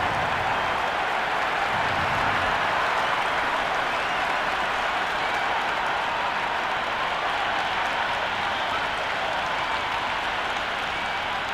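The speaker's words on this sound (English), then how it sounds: "already the crowd making a hell of a racket" A cricket crowd at a T20 World Cup match between USA and Netherlands roars and claps continuously, a dense, steady wash of cheering and applause that carries on without letup.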